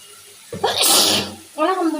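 A single sharp, close sneeze from someone with a cold bursts out loudly, and a voice starts talking right after it.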